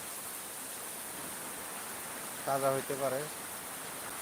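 Steady rain pours down in an even broadband hiss, while someone speaks briefly partway through.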